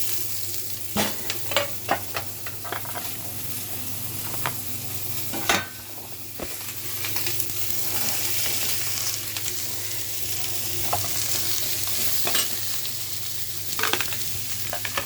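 Carrot and green beans stir-fried with curry leaves in an oil pan for a Tamil poriyal, giving a steady close sizzle broken by repeated scraping and clanking stirs of the spatula, with no voices.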